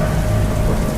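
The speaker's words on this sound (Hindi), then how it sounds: "इतनी तेज बारिश में छतरी भी कोई काम नहीं आएगा।" Heavy rain pours down hard at night, a dense, loud and unbroken roar of falling water with no gaps for the full second.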